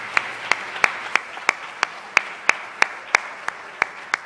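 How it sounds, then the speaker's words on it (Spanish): A church congregation claps in a slow, regular beat, about three sharp claps per second standing out over a soft wash of scattered applause. "Pues un aplauso para todos nuestros abuelos."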